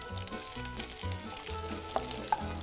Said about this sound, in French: je vais mettre la crevette concassée dans l'huile